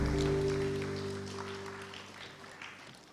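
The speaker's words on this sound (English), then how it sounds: "Can I have a big round of applause, ladies and gentlemen?" Audience applause at a signing ceremony during a water forum, a soft steady clatter of many hands under a sustained low hum, gradually fading.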